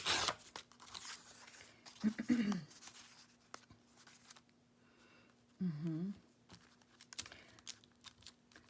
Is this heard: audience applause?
no